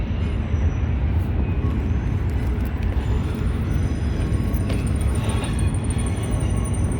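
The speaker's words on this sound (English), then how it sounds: "Listen to the rumble of the railway above." A train rumbles across the Caledonian railway bridge overhead in Glasgow, a steady low roar with faint metallic squeals heard from beneath by the River Clyde, with no talking.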